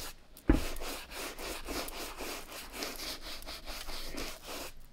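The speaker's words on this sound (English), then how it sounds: "we're gonna use our same rejuvenator soft bristle brush," A soft bristle brush scrubs cleaning solution into the nubuck of a Jordan Chrome 8 sneaker, producing rhythmic rasping back-and-forth strokes close up after a single sharp tap, steady and fairly quiet with no speech.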